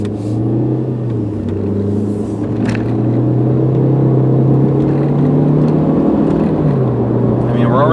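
Interior of a 2002 Volkswagen Passat automatic cruising at speed, a steady droning engine and road rumble with a low hum that shifts pitch slightly, continuous and close, with a voice speaking quietly over it.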